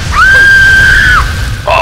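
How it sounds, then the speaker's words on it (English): A child screaming from ruins in Fallout 3, a single sustained high-pitched scream lasting about a second over a low ambient rumble, heard at a distance. "that sounds like a kid screaming, and it's coming from those ruins"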